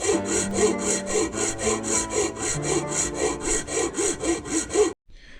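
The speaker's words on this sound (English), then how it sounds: "I'm going to use this file, being a long flat abrasive object, and I'm going to profile it with the case." Long flat file rasping across a motorcycle crank case on a 2003 KTM 250sx, about eighteen quick rhythmic back-and-forth strokes close up, then stopping abruptly.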